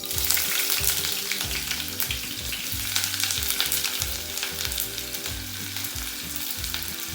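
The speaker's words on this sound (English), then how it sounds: "So I have taken a kadhai and the oil is almost heated. It's time to put the chopped onions." Chopped onions fry in hot oil in a kadhai, giving a loud, steady sizzle throughout, with a lower rhythmic hum running underneath and no voices.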